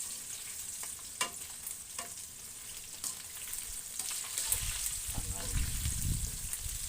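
Chicken sizzles steadily in a hot frying pan, a close crackling hiss with occasional stirring scrapes and clinks, swelling louder toward the end.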